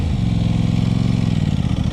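Aprilia RS 660 sport motorcycle with aftermarket-sounding exhaust revving close by, a loud, steady deep engine drone held throughout with a slight rise in pitch, no talking.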